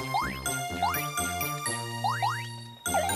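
Bright, tinkling bell chime from picking up the bell item in the retro arcade game Bubble Bobble, a few quick rising jingles over steady chiptune music.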